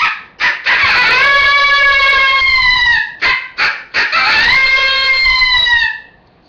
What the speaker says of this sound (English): If you bite and slide, you can get a bark and howl.